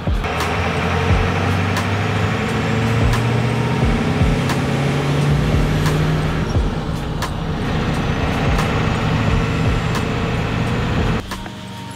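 A truck with a big turbo idles and runs close by, a loud steady engine drone with a rising whine, faint clicks and rattles on top, cutting off abruptly near the end.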